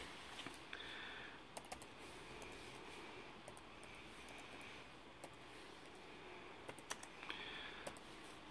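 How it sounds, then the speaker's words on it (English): Faint, irregular one-handed keyboard clicks tapped out slowly and sparsely over a quiet background hum. "One-handed typing."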